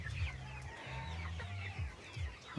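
Chickens, 12-week-old pullets, clucking at a backyard chicken farm in Cebu, soft repeated low clucks in quick bursts over faint outdoor background.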